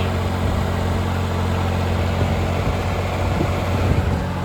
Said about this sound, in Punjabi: 40 ਹਾਰਸ ਪਾਵਰ ਦਾ ਟਰੈਕਟਰ ਆ